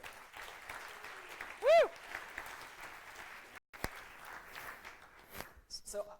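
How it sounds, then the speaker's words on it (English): Conference audience at a Stockholm summit giving a short burst of applause with a loud whoop, followed by a brief pause and scattered sounds as a presenter resumes speaking. "So please, an applause for InnoEnergy."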